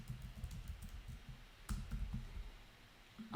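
Typing on a computer keyboard, a quiet, steady run of light key clicks, then a short pause and another brisk burst of keystrokes, with no talking.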